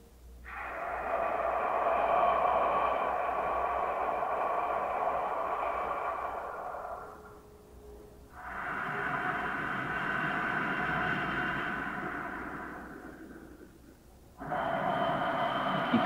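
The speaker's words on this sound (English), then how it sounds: "It's a hissing H sound in the back of your throat." Ujjayi ocean breath: hissing breaths drawn through a constricted throat, three long rushing breaths separated by short pauses, close and steady like surf.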